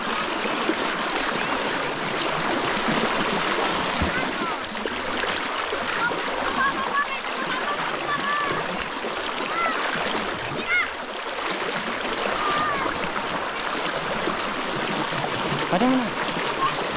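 A strong river current rushes and splashes continuously at close range during a river crossing in Montalban, Rizal, a steady broadband wash with people talking over it.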